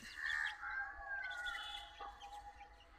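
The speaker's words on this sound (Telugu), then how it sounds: "ఆ కోళ్ళు ఇక్కడ మేస్తున్నాయి" Chickens foraging around a rural house after rain give a few clucking, crowing-like calls at close range, fairly loud and alone over a faint low background rumble.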